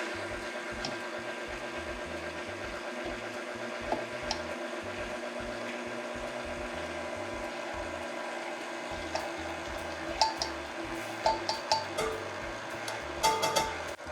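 An electric mixer running on low through granola bar batter for peanut butter and jam bars: a steady, moderately loud whir with a rhythmic low pulsing, plus scattered light clinks of the beaters against the bowl.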